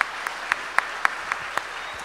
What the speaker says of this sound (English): Milky Quayle, give him a big, big round of applause, ladies and gentlemen.